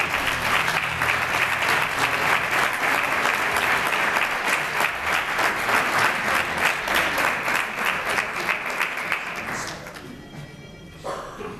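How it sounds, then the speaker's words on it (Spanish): Loud, dense audience applause fills a hall at a regional houses federation's queen coronation ceremony in Valencia, holding steady for about nine seconds before fading into scattered claps and murmur. "Recibamos con un fuerte aplauso a don Vicente Sardá Lama"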